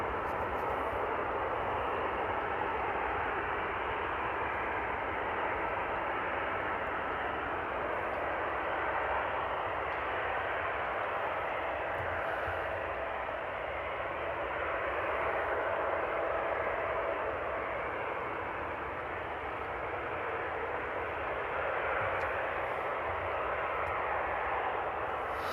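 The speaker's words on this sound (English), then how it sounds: "That's going to be an A330, folks." An Airbus A330 airliner roars on takeoff at Amsterdam Airport, a broad, sustained engine rumble and hiss that holds steady and loud throughout without voices.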